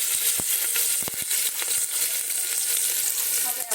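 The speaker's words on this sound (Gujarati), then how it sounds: "હવે આપણે એ સાથે એડ કરી આદુ મરચાં અને લસણની પેસ્ટ" Ginger, chili and garlic paste sizzling in hot oil with cumin seeds: a loud, continuous hissing fry, broken by sharp crackles and pops throughout.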